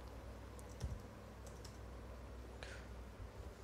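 A handful of soft keystrokes on a computer keyboard, sparse and irregular, quiet against faint background hiss.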